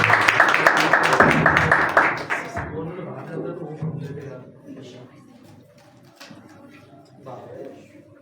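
An audience at a Sunday morning church meeting claps to welcome the pastor, a dense burst of applause that fades after a few seconds as a voice talks on.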